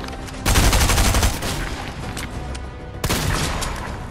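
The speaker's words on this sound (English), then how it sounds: "Double pump with the heavy shotgun versus Gunner." Heavy shotgun fired in a video game against an NPC, two loud booming blasts about two and a half seconds apart, each with a long rumbling tail.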